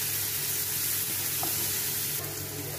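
Curry leaves and onions sizzling in hot oil as they fry for a mushroom pepper fry, a steady loud crackling hiss with small pops and a faint stir, no talk.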